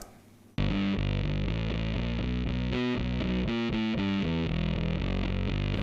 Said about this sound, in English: hard to find Japanese distortion pedal. It's really nasally and sounds kind of bad on its own.